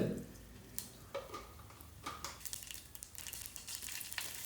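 Mustard seeds crackle and pop in hot coconut oil, faint scattered sizzling bursts and quick spits repeating over a few seconds, with no voices.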